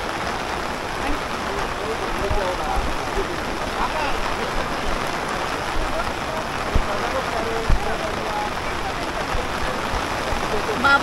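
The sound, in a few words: heavy rain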